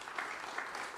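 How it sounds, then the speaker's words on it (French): Audience in a French parliamentary conference hall applauds together, a brief even wash of clapping heard fairly faint and at a distance. "on peut les applaudir tous les trois, je crois"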